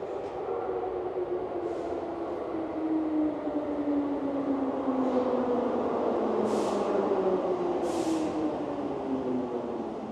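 Subway train ride in Japan heard from inside the car: a steady rumbling roar with tonal motor whine sliding downward as the train slows, plus a few brief hissing bursts, loud and continuous without talk.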